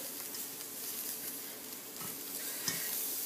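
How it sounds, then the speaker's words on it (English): Frozen peas being stirred through Puerto Rican arroz con pollo in a pot, a steady soft sizzle and scrape with occasional spoon clinks, close and continuous, no talking. "just threw in some frozen peas, and all I'm going to do is stir it through it"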